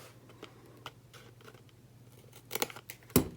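Scissors snip through card paper for a crafted card box: a few light cuts early, then a crisp cluster of snips and a final sharp cut close by.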